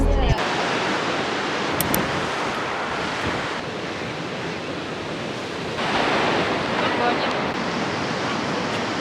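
Ocean waves surge and wash steadily onto a Sydney beach along a coastal walk, a dense, continuous roar with wind buffeting the microphone throughout, swelling slightly louder toward the end.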